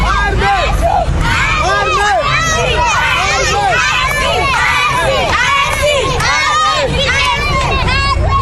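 A large crowd in a town cheers and shouts as a returning military convoy arrives, with many overlapping high voices and children yelling in a continuous loud, excited roar.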